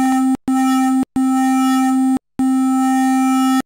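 A steady Atmegatron synthesizer tone shaped by a filter envelope, with a bright buzzy timbre, plays in four separate held notes, each cut off abruptly by short silences, loud and clean with no voices.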